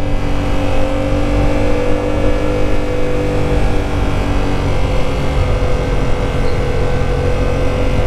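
A car engine hums steadily while the car rolls along slowly, a loud, close, continuous drone with a low rumble and no distinct revving, lasting throughout with no talk.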